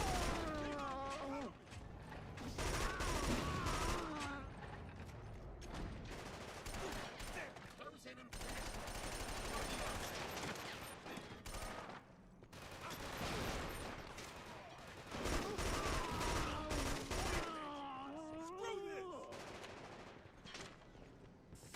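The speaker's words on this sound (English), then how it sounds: "Thank God I held onto this LMG" Sustained LMG machine gun fire in the video game Killzone 2, dense bursts of rapid shots running through most of the stretch alongside other battle noise, with someone talking over parts of it.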